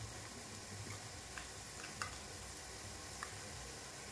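Onions frying in a pan with ginger garlic paste for a brinjal chicken curry, giving a steady close sizzle with a few light stirring ticks and no talk.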